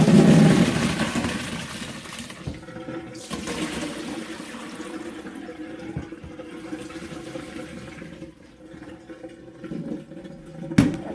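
Black olives and their brine water being poured into colanders in a kitchen, a loud gush at first that settles into continuous splashing and draining with a few clattering knocks and a sharp clunk near the end.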